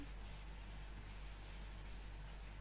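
Writing is rubbed off a board with steady, continuous soft scrubbing, quiet and unbroken throughout.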